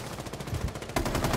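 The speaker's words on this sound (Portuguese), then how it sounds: "ele atirou varado na janela" Rapid video game gunfire shot through a window, a dense close burst of repeated shots that grows louder and harsher partway through.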